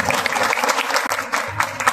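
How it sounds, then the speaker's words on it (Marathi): Guests at a child's fifth birthday party clap loudly together, a dense, sustained burst of applause with a brief dip near the middle before it swells again. "एकदा जोरदार टाळ्या झाल्या पाहिजेत. टाळ्यांचा आवाज ऐकू आला पाहिजे"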